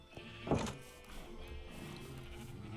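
A single sheep bleats in the Minecraft video game, a short nasal cry near the start set over faint background sound, with no talking.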